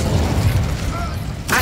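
An Incendio fire spell cast in Hogwarts Legacy, a loud roaring, booming burst of flame with dense low rumble, sustained briefly before a sharp new crackle at the end.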